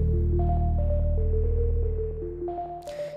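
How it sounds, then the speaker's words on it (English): An ambient beat with a sustained low bass bed and a high-pitched synth accent that steps through short melodic notes, ending in a brief brighter burst. "I really like the high pitch accent that I added"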